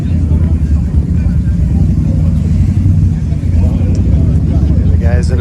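A Ducati Multistrada motorcycle engine rumbles loud and close, a steady low drone lasting throughout, with people talking over it.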